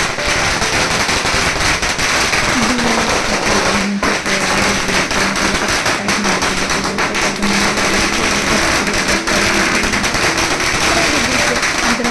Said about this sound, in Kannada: ಫೈನಲಿ ಪಟಾಕಿ ಸೆಷನ್ ಸ್ಟಾರ್ಟ್ ಆಯಿತು.